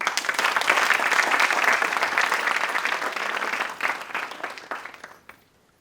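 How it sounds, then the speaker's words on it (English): Sustained audience applause at a Bharatanatyam arangetram honouring the dance guru, a dense even wash of many hands clapping from the start that thins and fades out in the last second. "Please give a heartfelt round of applause to Guru Sudakshina"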